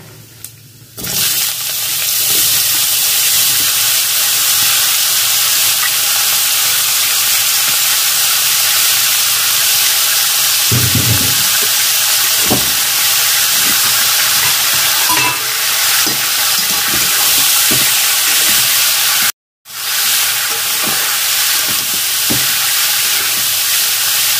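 Bottle gourd pieces dropped into hot oil after tempering for a Bengali lau chingri dish, giving a loud, continuous hissing sizzle close by with a brief dropout near the end.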